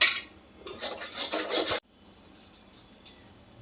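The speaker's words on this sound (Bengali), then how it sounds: "এরকমভাবে এই যে চামচি দিয়ে আলু মশলাটা এর মধ্যে ভরে নিচ্ছে" A spoon scrapes and clinks against a plate and capsicum while potato masala is pressed into it, a busy rustling burst for almost two seconds, then faint scattered clicks.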